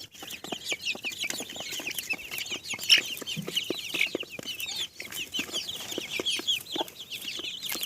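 Several chickens cluck and chatter continuously nearby, busy overlapping calls with scratchy outdoor background noise.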